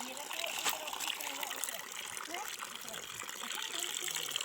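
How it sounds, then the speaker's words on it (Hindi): Water splashes and trickles as a container fills in a village, a continuous gushing stream heard alongside people talking. "और यहाँ पे पानी भरता हुआ।"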